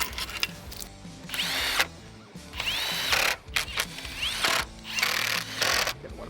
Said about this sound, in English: now I'm ready to attach the 10mm bolts